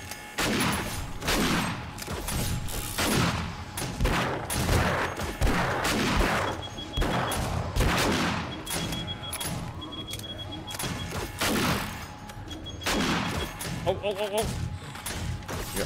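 Gunfire and grenade shots in the survival game 7 Days to Die crack out in repeated, irregular bursts across a busy mix of game noise, with players talking throughout.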